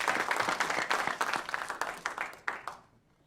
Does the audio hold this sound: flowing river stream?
no